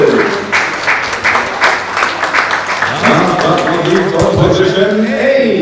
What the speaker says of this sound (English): A big applause for the Czech athlete